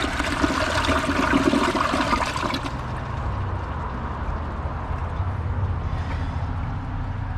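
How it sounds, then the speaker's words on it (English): A Glacier Bay PowerFlush or Kohler Class 5 toilet gets a press and release flush, a loud, close rush of water that swirls, then settles into a steady draining gurgle and trickle. "I'm going to do a press and release flush on both of them."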